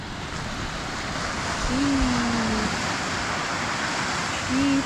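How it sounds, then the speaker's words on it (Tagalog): Strong ocean surf rolls in as a steady, broad wash of breaking waves with wind buffeting close by, swelling slightly in the middle and again near the end, with no clear talk over it. "Malakas na ata ang alon."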